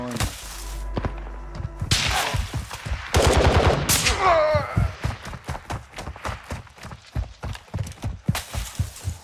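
Gunfire in a DMZ match, sharp shots and rapid volleys mixed with thuds and game effects, loud and close, while a player talks over parts of it.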